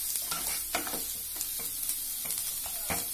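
Sliced onions softening in a pan with a little salt, the start of a spicy kuzhi paniyaram filling: a steady sizzle with repeated spoon-scraping stirs, close and alone without talk.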